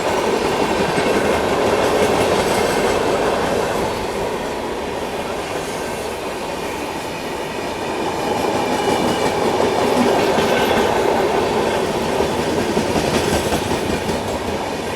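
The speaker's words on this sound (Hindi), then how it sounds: "सुपौल पुणे एक्सप्रेस अभी स्किप कर रही है श्रीधाम रेलवे स्टेशन" The Supaul Pune Express passes through Shridham railway station with a steady, loud rumble of wheels and rail clatter, rhythmic clickety-clack and faint squeal, sustained for the whole span without speech.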